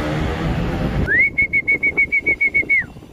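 Racing pigeons arriving at the loft after a 167 km training flight from Catanuan, Quezon: a bird's clear, repeated whistle-like call of about ten evenly spaced notes follows a burst of broadband noise, close and fairly loud.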